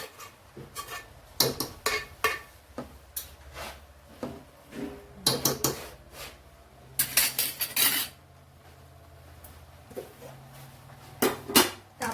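Carrots being sautéed for carrot halwa are stirred in a pan, giving scattered utensil scrapes and clinks against the metal at close range, with irregular bursts and quiet gaps and no voice.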